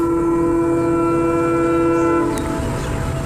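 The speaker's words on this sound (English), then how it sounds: "the train, fast approaching, starts blaring its horn to warn them to get the heck out of the way" A fast-approaching train sounds its horn in one loud, sustained, harmonic blare that cuts off near the end, leaving the rumble of the rail cars.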